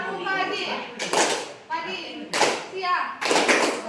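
Children clap together in a classroom clap game, three loud bursts of rapid group clapping alternating with children's voices chanting between them.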